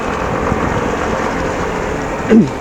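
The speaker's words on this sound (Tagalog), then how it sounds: "Lakas na ulan" Heavy rain during a typhoon in the Mountain Province highlands makes a loud, constant hiss close by, with a brief louder thump near the end and no talk.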